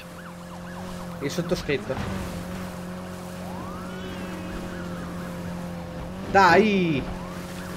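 Wailing police car sirens from Need for Speed Heat rise and fall over a steady engine drone, with a louder siren sweep near the end, while someone briefly speaks in Italian.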